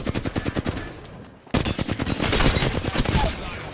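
Rapid automatic gunfire in the shooter Apex Legends, a fast rhythmic burst of shots that stops briefly, then resumes as a denser, louder barrage of overlapping fire.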